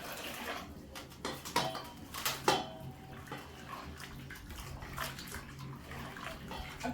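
Skinned maize being washed by hand in water, with close sloshing and swishing, a few sharper splashes and light clinks of grain and container, steady throughout with no talking.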